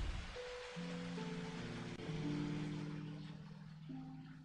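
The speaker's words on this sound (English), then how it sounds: "Still raining." Steady rain falls in the medieval role-playing game Kingdom Come: Deliverance, a soft continuous hiss running beneath sustained tonal game music, with no one speaking.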